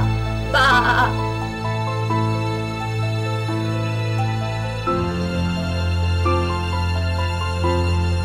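A person imitates a sheep with a single short, nasal bleat near the start, set against steady background music that continues alone afterward.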